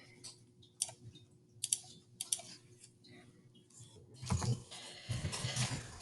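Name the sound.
typing on a keyboard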